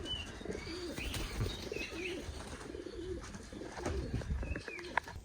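Pigeons coo and murmur nearby in a busy flock in a village during light rain, with soft chirps and an occasional flutter over a low outdoor background.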